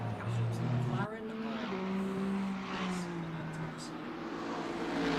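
GT race cars at speed on the Paul Ricard circuit, with a steady high engine whine that shifts pitch as the cars change gear and pass, under continuous commentary.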